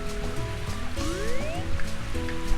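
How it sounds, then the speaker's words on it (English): Continuous rain wash in Mario Golf on the Nintendo 64 plays under looping game music, with a pair of rising whistle-like effects midway; no voices are heard. "the wind and rain is being very vicious on this hole"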